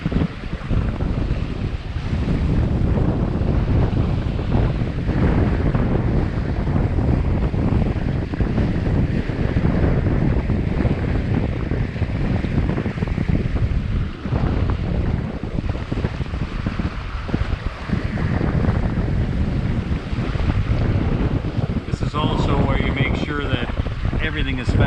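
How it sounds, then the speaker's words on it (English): Strong wind roars steadily over a sailboat at sea with the engine off, a loud continuous rush with water noise beneath, lasting throughout. "this has been a pleasure just to let the wind do the work"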